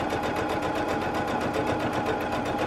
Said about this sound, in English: I'm starting to sew my rows together.